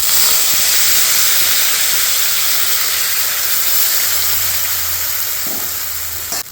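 A ground masala paste poured into hot oil for an Afghani chicken kofta curry, hissing in a loud, continuous, close-up sizzle that holds steady and eases slightly at the end.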